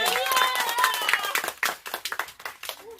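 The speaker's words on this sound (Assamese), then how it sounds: "একবাৰ ডাঙৰকে হাত চাপৰি দিবি এইটো কাৰণে" A group claps along during a lighthearted Assamese challenge game, a mix of irregular hand claps and voices, with speech and laughter running through most of the clip before the clapping trails into scattered claps.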